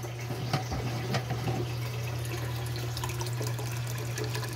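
Water runs steadily through a DIY fish tank filtration setup, a continuous gurgling flow with occasional small splashes over a constant low pump hum.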